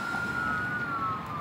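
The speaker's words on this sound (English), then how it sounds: "here comes the ambulance" An ambulance siren sounds as a steady, fairly loud wail whose pitch slowly drifts downward as it passes, over a low rumble of background noise.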